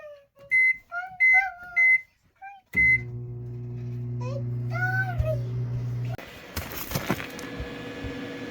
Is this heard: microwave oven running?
yes